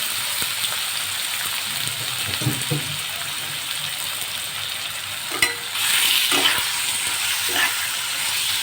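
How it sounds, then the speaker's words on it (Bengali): Chicken pieces fry in hot oil in a pan with a steady, hissing sizzle, nearby, with a few light clatters of a spatula and a brief louder burst partway through. "এবার আমি মাংসটা ভেজে নেব।"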